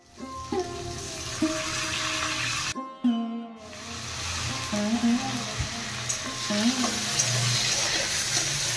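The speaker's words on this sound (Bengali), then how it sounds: "চালটা এবার ভালো করে ভেজে নিতে হবে" Drained basmati rice frying in a pan with cashews and raisins for a Jagannath bhog kanika, with sizzling and repeated stirring scrapes, a brief quiet gap partway, then continued stirring close by.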